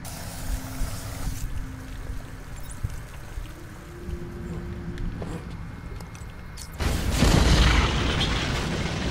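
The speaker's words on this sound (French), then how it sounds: "Structure fragile qui devrait s'enfoncer avec une explosion ciblée." A targeted explosion in Batman: Arkham Asylum collapses a fragile structure: after several seconds of low ambient rumble, a sudden loud boom erupts and leaves a sustained heavy roar, with no talking.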